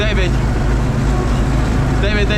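A ZIL truck engine runs loud and steady as the truck pulls away across a wheat field while spreading fertilizer, a continuous low rumble throughout with a person speaking briefly at the start and end.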